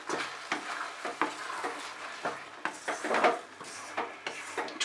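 A spoon stirs spice mix into a Bengali jujube (kul) pickle in a pan, giving soft close scraping and rubbing strokes in an uneven rhythm, fairly quiet.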